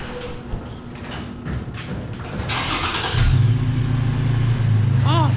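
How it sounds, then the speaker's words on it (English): A 2019 Toyota Tacoma truck starts and rolls into position nearby, a rough engine rumble building and growing louder with a brief higher whine, with no talking. "First, I gotta get the truck moved into place."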